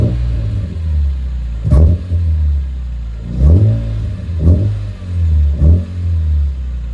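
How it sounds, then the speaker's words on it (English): A BMW E46 M3 engine turns over and idles with a steady low rumble, then revs up in several short bursts that rise and fall back. "I suppose I could turn the car on just so y'all can hear start up."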